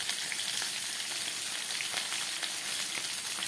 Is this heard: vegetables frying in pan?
yes